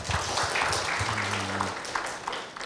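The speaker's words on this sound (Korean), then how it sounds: "박수질 좀 부탁드립니다" Audience applause at the close of a university lecture in a hall, a steady wash of clapping that holds evenly across the whole stretch, with a faint low hum underneath.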